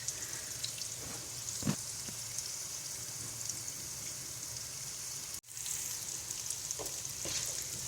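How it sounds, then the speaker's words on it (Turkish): Vermicelli frying in a pan for chickpea rice pilaf, with a soft, continuous close-up sizzle and a few faint clicks of stirring. "Şehriyelerimiz birazcık kızaracak."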